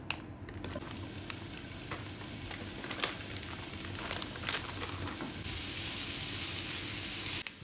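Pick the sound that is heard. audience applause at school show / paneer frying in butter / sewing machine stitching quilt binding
paneer frying in butter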